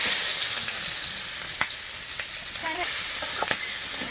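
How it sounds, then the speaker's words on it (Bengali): Cumin seeds frying in hot oil for a curry on a clay stove, a steady close sizzle with a few faint clinks and stirring scrapes, no talk. "তরকারিটা রান্না করার জন্য ওই তেলের মধ্যে জিরা দিয়ে দিলাম।"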